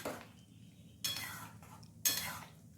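A spoon scrapes and clinks against a cooking pot while stirring boiled bottle gourd and lentils, with two sharp metallic bursts about a second apart over a quiet background.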